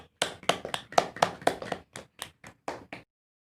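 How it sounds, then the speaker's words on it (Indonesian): Several sharp hand claps come in an irregular burst of about a dozen, close and fairly quiet, then stop abruptly into silence. "Oke, tepuk tangan untuk kakak Naya Fitri."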